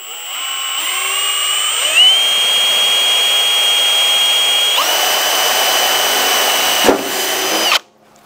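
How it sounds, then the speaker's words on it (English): A power drill whines loudly and steadily for several seconds, pitch shifting as it bores a pilot hole through the metal fender of a 1971 Nova, then cuts off abruptly. "we're going to drill a pilot hole through here first"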